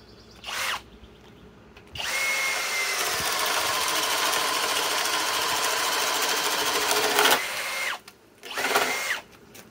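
A Master Force Boost hammer drill runs on speed 1: a short whirring burst, then a steady, loud high-pitched motor whine for about five seconds, followed by two more brief bursts as the trigger is pulsed.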